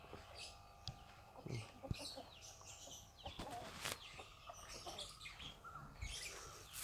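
Native country hens and chicks cluck and peep around a feeding spot, a cluttered chorus of short calls with occasional knocks and a voice speaking faintly in the background.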